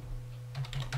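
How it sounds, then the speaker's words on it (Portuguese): Close, quiet computer keyboard typing: a few light key clicks in quick succession over a steady low electrical hum. "Então eu vou digitar aqui"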